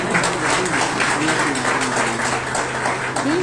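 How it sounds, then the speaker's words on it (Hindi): Seminar audience applauding, a dense, continuous wash of clapping at steady loudness throughout, with faint voices mixed in underneath. "एक बार जोरदार तालियों से धन्यवाद दीजिए।"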